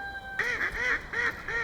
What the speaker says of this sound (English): These ones here are called mandarin ducks.